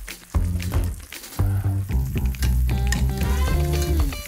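Butter browning in a hot pan for a pork chop dish, a close, steady sizzle and crackle with bubbling pops that carries on alone without voices.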